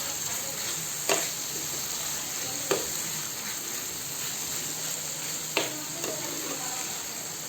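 Paneer is stirred into gravy in a pan, giving a soft, steady sizzle with three distinct clacks of the spoon against the pan, quiet and close with no talking.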